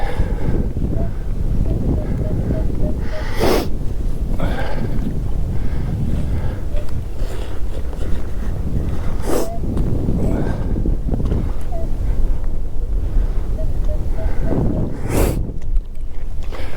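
Strong wind buffeting a microphone on a seaside pier, a loud continuous rumble and roar with occasional sharper gusts, steady throughout.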